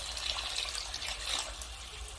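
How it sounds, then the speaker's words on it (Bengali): Plain water poured into a simmering curry pot of spiced masala paste for a cauliflower and koi fish curry, making a steady, moderately loud, continuous splashing rush that lasts throughout with no voices. "জলটা একটু বেশি করেই দেব বন্ধুরা"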